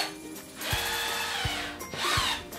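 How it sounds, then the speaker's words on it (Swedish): A power drill bores into a Halloween pumpkin in a few loud, whining bursts, with sharp knocks and clicks between them, close to the microphone. "jag ska borra i det istället"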